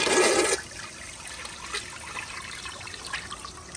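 An overfilled 2020 Seasons Kindergarten toilet tank flushes with a loud, close rush of water for about half a second, then settles into a softer trickle and dribble as the bowl drains and refills.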